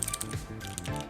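Brown tactile, non-clicky mechanical keyboard switches being typed on, a few soft, muffled taps and thocks up close, quieter and duller than clicky switches, with no talking.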